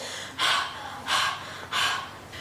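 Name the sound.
panting after hopping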